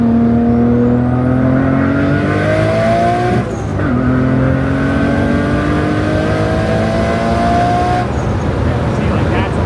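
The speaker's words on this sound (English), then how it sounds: "That's like the perfect turbo sound." A modified Nissan R32 GTR with a 600hp-plus turbocharged engine accelerates hard, its loud, close engine note climbing steadily in pitch, dropping sharply at two gear shifts and then rising again.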